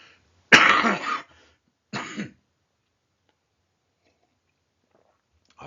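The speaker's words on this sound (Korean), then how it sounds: "기침 감기가 참 오래가네요." A short, harsh cough burst followed by a second, quieter cough, close and alone, then silence.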